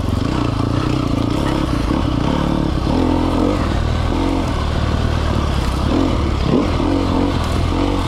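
A 2020 Sherco 300 SEF Factory dirt bike engine runs loud and close on a trail ride, with a steady throbbing drone that rises and falls in short throttle surges, accompanied by clattering and scraping.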